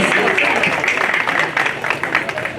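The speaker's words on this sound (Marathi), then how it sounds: "टाळ्या वाजवायच्या आहेत त्या शौर्यासाठी, त्यानं जोपासलेल्या कलेसाठी" Audience applause at a village storytelling event for a first-grade boy, a dense steady clapping wash from a crowd, close and fairly loud throughout with a voice faintly mixed in.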